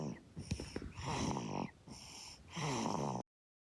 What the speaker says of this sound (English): That's the baby snoring?